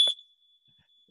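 A smoke alarm in a house gives a single short, sharp electronic beep, loud and close, followed by near silence.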